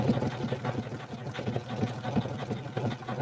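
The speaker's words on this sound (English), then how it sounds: "I'm going to back stitch just to secure." A sewing machine runs a short back stitch with a steady, rapid mechanical patter at close range, fairly quiet and with no voices.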